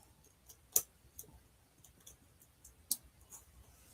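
Sparse, quiet keyboard keystrokes tapped out at an irregular pace, a few sharper clicks standing out from soft taps, with no talking.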